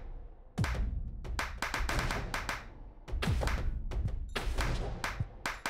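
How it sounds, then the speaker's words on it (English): Repeated sharp, dry clap sounds from the video game Samurai Gunn 2, signalling an empty gun, come in clustered bursts with a few brief pauses, loud and close with no voices. "I assume that clap noise means I'm out of ammunition."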